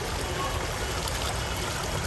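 Wastewater and sewage pour steadily from a household drain pipe into a river at Kashi (Varanasi), a continuous broadband rushing and gurgling flow with a background of voices.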